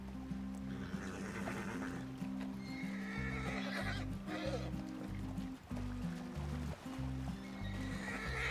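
A horse in Red Dead Redemption 2 gives a loud whinny while its hooves clip-clop steadily beneath, over a continuous game music bed with some faint background rustle.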